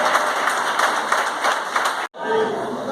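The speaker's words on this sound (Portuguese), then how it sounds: "aplauda o nome do Senhor dos Exércitos" A church congregation claps and applauds during a sermon, a dense, lively patter of many hands that cuts off abruptly near the end before a voice resumes.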